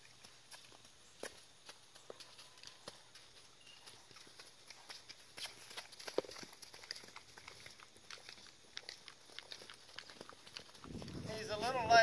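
A horse in training moves around a handler on a lunge line, its hooves thudding in soft, irregular beats on the ground that grow louder toward the end, where a voice briefly speaks.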